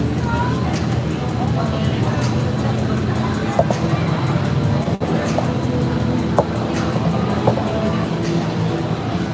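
Busy city street traffic in Bukit Bintang, Kuala Lumpur rumbles steadily, with a few sharp knocks along the way, while people talk over it.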